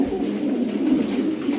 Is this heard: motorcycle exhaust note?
no